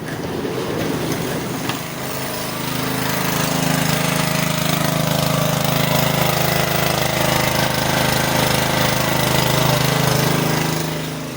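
A small petrol generator runs loud and close with a steady droning rumble after a brief rustle at the start; no one speaks.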